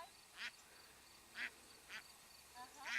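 Ducks quacking as a dog herds them, with four or five short nasal quacks at irregular intervals, close by and moderately loud over quiet background noise.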